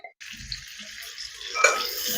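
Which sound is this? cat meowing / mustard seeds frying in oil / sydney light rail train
mustard seeds frying in oil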